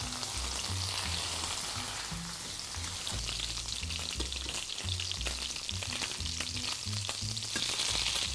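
Veal sweetbreads fry in a hot pan, a loud continuous sizzle and crackle with a low rumble beneath, holding steady throughout without any voices.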